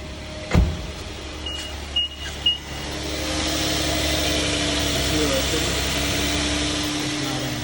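A car engine settles into a steady, low idle after a few brief clunks and whirs, heard up close and alone.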